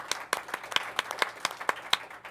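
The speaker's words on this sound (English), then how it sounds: "let's have a round of applause for that" A small audience at a local TV show claps for a new sponsor, a handful of distinct hand claps in an uneven rhythm, fairly close and moderately loud.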